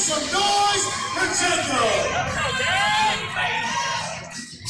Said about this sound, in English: Crowd, make some noise for